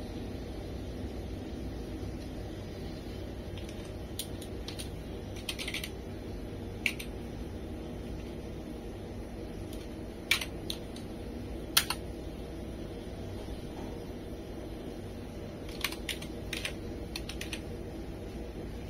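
Keys clack on a computer keyboard as a command is typed during an RTX 3090 graphics card repair. The keystrokes are sparse and irregular, in short clusters, over a constant low background hum, with no talking.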